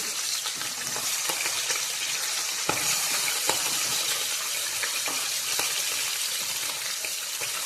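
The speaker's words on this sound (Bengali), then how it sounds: "মাছের মাথাগুলো খুব ভালো করে আমি প্রথমে ভেজে নিচ্ছি।" Fish heads frying in hot oil in a pan, a continuous bright sizzle and crackle with scattered sharp pops and spits, close and steady throughout.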